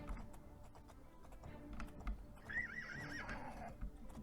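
A horse in a video game lets out one clear, rising and falling whinny near the middle, heard faintly over quiet game ambience and soft clicking keys.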